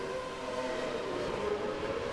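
A loud, sustained droning hum from a tunnel audio glitch in the F1 2013 racing game at Singapore, holding a steady tonal whine that buries the car's engine sound.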